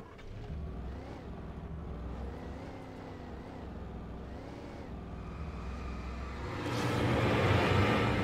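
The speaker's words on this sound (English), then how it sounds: "There's a new car, I'll take it." A car drives in the video game Alan Wake Remastered, its engine droning steadily with rising and falling revs before surging louder near the end, with no talk over it.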